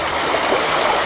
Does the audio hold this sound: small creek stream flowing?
yes